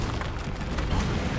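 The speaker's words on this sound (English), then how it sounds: "Yep, you want another grenade." A grenade blast in Resident Evil 3 Remake, a dense, loud booming burst that fills the whole short moment without a clear start or stop.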